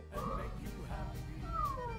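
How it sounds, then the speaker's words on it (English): A cat lets out a couple of drawn-out meows, fairly faint and a little distant, over a quiet room. "I hope you can hear my cat all the way over there."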